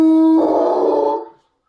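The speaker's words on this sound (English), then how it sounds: "Dogs will get him, sir. They've got his scent." A single tracking dog lets out a loud, close howl lasting just over a second, starting on a clear pitch before breaking into a rougher, noisier tone and then cutting off abruptly.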